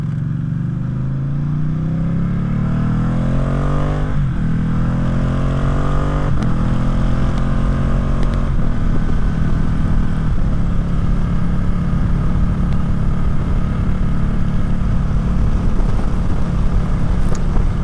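A Ducati Streetfighter motorcycle with an Arrow exhaust and no silencer makes full-throttle pulls, loud raw engine howl rising through several gears with brief shift dips, close and continuous, then settling into a sustained high-speed roar with wind noise, no talk.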